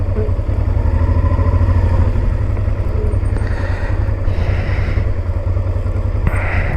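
A Honda Transalp motorcycle's engine drones steadily and close throughout the ride, a deep continuous rumble with some wind buffeting and light clatter over it.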